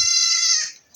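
Goats and sheep bleat on a goat farm, one loud, sustained, nasal bleat close by that fades away near the end, with no talk over it.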